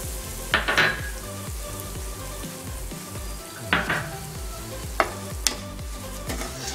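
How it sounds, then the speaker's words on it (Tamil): Semolina (rava) roasts in ghee in a pan with a steady, close sizzle. Scraping stirs and a few metallic clinks of the spoon against the pan are audible over it. "நம்ம ரவையை வறுத்துக்கலாம். இப்போ கொஞ்சமாக வந்து நெய் ஆட் பண்ணிக்கலாம்"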